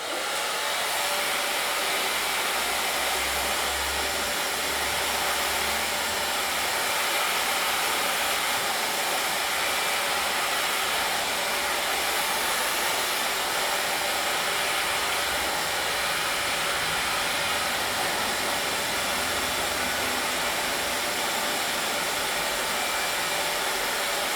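A hair dryer blasts steadily on straightened hair, a loud continuous whooshing hum that stays close and unbroken for the whole stretch, with no talk.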